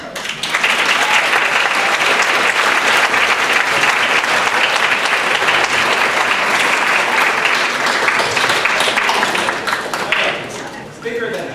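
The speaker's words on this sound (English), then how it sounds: "give your parents a big round of applause" Sustained audience applause at a middle school spring concert, a dense wash of many hands clapping loudly and steadily for about ten seconds before tapering off near the end.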